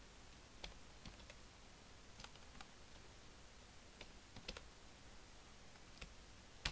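Typing on a computer keyboard while entering names and details into a spreadsheet filter form: quiet, irregular clicks and taps spread through the clip, with a few sharper keystrokes standing out against a faint background hiss.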